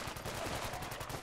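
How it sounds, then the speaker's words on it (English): Rapid gunfire from the video game Fallout 4, a dense, steady crackle of shots running through the whole short stretch at a moderate, somewhat distant level. "Sounds like there's gunfire coming from the other side."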